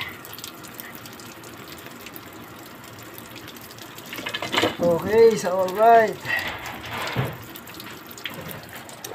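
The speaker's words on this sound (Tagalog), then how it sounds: "Tumutulo pa uli." Water runs and drips from a sink water line during an ice maker line installation, a steady background wash with someone talking briefly over it midway.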